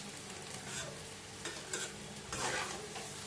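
Rice being stirred as it fries in a pan for khichuri, a continuous sizzle with a few louder scraping strokes of the spoon, close and alone.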